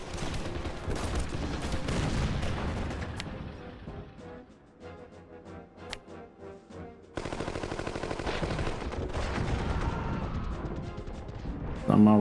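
Gunfire in the strategy game OpenGeneral, in a Polish–Bolshevik War 1919–20 battle at Daugavpils: loud, dense bursts of shots and crashes. They ease into a quieter patch midway, then surge back just as heavily, with no talking.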